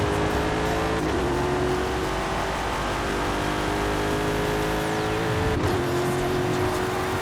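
Ford F-150 Lightning driven around a track in a racing video game, a continuous loud whining drivetrain drone with shifting pitch as it accelerates and brakes through corners, with faint tire noise.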